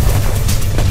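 A battlefield explosion in the strategy game Warpips, a loud, dense rumbling burst with heavy low-end booms filling the whole second, like rapid gunfire and blasts crowding together.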